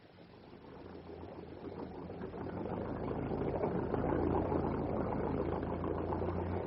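Boat engine starting aboard in a radio drama, rising from quiet into a steady, swelling mid-low mechanical drone that grows louder over several seconds.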